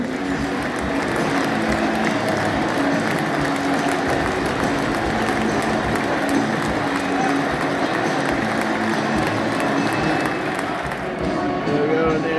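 Doncaster Rovers supporters inside the stadium before a match against Northampton Town, a broad, steady crowd roar with murmuring and scattered clapping, heard from within the stands, continuous and fairly loud.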